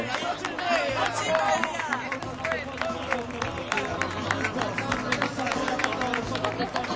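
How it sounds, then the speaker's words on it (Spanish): Crowd applause at the prize-giving of a local surf, longboard and bodyboard championship at A Lanzada: dense, continuous clapping mixed with lively chatter and voices throughout. "Un fuerte aplauso, que lleva aquí desde las 7 de la mañana también currando."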